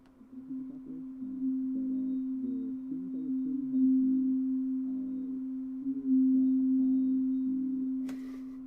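A soloed reverb effect in audio post-production rings as a steady, resonant tonal drone with fluttering ripples, holding for several seconds before a brief bright burst near the end.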